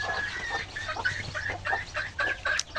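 Chickens on a goat farm clucking repeatedly at close range, a run of short calls over a low background hum.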